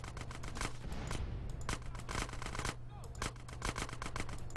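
Automatic gunfire in the game Grand Theft Auto: San Andreas, a fast rattling string of close, loud shots during a gang shootout, steady over game music, with no talk.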